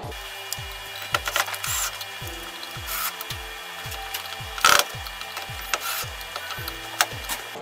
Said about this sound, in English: Now I just have to screw it in place and it's there to stay.